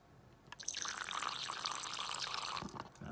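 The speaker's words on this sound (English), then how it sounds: "Tiny water bowl, so without further ado, let's fill it up." Fine water spray hissing into a tiny water bowl in a striped tarantula's enclosure, a few short bursts of close, soft misting with dripping after a brief quiet start.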